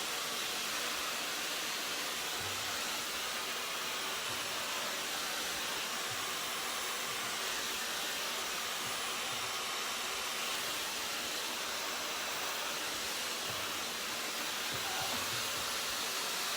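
A hair dryer with a diffuser attachment dries long curly hair, giving a continuous close whooshing roar that holds steady throughout with no voices over it.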